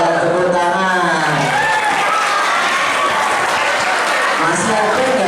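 Children clap together at a Ramadan study gathering, producing steady, loud, continuous applause from a close crowd for several seconds.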